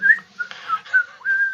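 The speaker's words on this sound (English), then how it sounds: "skipping by, whistling like" A person whistles a short, wavering tune close and clear, several sustained notes with brief dips between them and no other sound.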